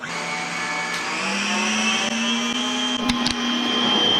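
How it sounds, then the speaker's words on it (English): An electric hand mixer whirs steadily, its motor pitch rising slightly as it runs, with a couple of brief clatters near the end. "Handy dandy little mixer here."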